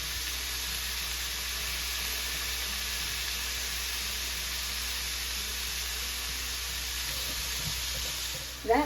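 Carrots and celery sizzle gently in a pan with browned beef, a steady, moderate frying hiss that continues unbroken, ending with a brief stir or clatter near the end.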